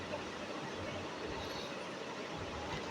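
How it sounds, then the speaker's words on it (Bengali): A train arriving at Dhaka airport station, heard as a steady, dense rumble and rolling wheel noise with no distinct horn or clatter. "এই যে ট্রেন চলে আসছে"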